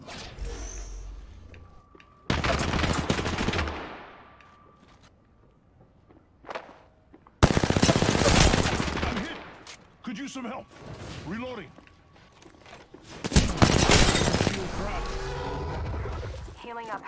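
Bursts of video game gunfire in a ranked match on PS4, loud sustained volleys in three separate bursts with quiet gaps between, sharp bright cracks over a running player voice.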